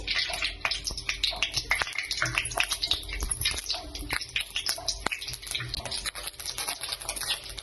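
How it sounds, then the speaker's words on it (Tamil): Mustard seeds, urad dal and cumin splutter in hot oil for a spicy chutney, giving a steady, fairly faint stream of sharp crackles and pops without a break. "கடுகு நல்லா பொரிஞ்சிச்சு."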